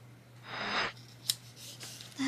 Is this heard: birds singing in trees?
no